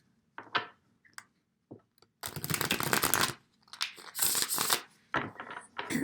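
Tarot cards being shuffled by hand, a series of papery riffling and sliding bursts that grow longer and louder after a few sparse taps, close and alone with no talking.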